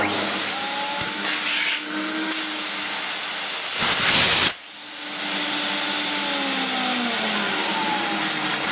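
A Hoover Galaxy vacuum cleaner runs with a steady, loud whooshing hum during a suction test, swelling into a harsher burst midway before briefly dipping and resuming.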